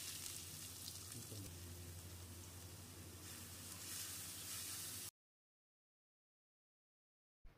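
Finely chopped onions and cumin seeds sauté in hot oil for a cauliflower gravy, producing a steady, even sizzle and hiss close by for about five seconds before cutting off into silence.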